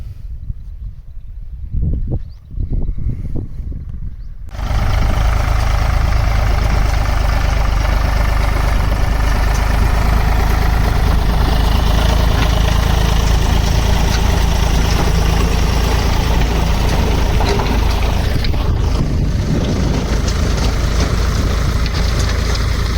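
A tractor engine idles steadily and loudly at close range, a deep continuous rumble starting after a few seconds of quieter ambient noise and running unbroken to the end.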